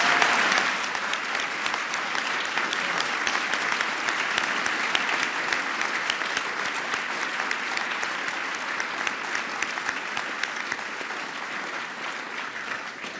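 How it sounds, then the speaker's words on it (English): Sustained applause from a luncheon crowd honoring Secretary Blinken, co-hosted for Australian Prime Minister Anthony Albanese; dense, steady clapping fills the whole stretch without pause, even and fairly close. "Can we please applaud our Secretary?"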